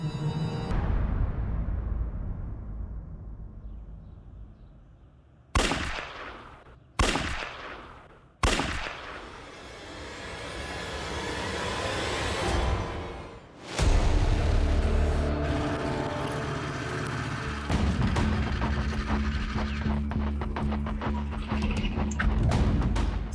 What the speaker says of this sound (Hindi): पड़ोसी ने 3 गन शॉट्स की आवाज सुनी है।